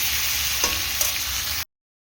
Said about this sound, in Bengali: আলু ভাজা চলছে লাল করে,